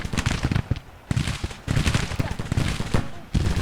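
Springfield rifle musket volleys from Civil War infantry in Grand Tactician, crackling in dense, overlapping bursts of rapid shots with brief lulls between, loud and close, like a sustained firefight.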